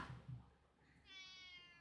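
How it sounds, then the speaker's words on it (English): Linus, a cat in the game Wayfinder, gives a short, soft meow after a faint brief sound, quiet and close. "My cutie meows and follows me as I head over toward his dry food."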